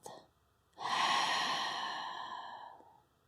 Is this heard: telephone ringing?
no